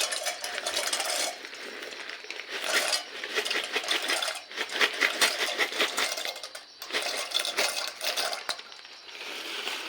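A whole packet of dry macaroni pours into a pot in bursts of close, clattering rattles and scraping rustles, separated by brief pauses.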